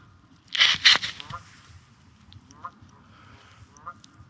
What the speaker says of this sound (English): of course the Canada geese out there in the fog